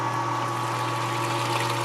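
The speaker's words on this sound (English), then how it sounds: "have a hose hooked from my brew kettle to an electric pump, from the electric pump up into my mash tun." An electric pump pushes water through a hose from a brew kettle up into a mash tun, giving a steady close hum with a strong low tone and a faint watery rush.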